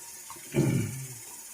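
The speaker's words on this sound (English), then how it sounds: "I'm going to fill up my sink with some hot water." Hot water runs from a tap into a sink, a brief close gush that swells and then settles into a softer trickle.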